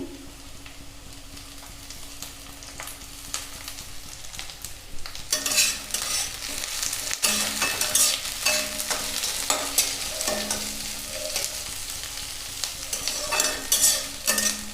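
Ginger and garlic cloves fry with browning onions in a pan for egg curry while being stirred. A low sizzle grows louder and busier partway through, with repeated scraping and clattering stir strokes over a steady hiss.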